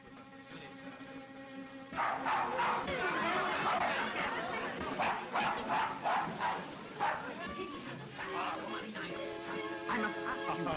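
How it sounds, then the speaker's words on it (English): A dog barking inside a cabin, a series of sharp repeated barks in close succession under and between people talking, with steady background noise. "will you kindly take that dog out of the cabin?"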